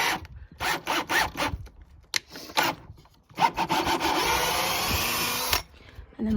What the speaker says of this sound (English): And again, we're just drilling a hole.